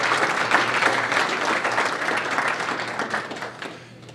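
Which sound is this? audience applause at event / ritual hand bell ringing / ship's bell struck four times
audience applause at event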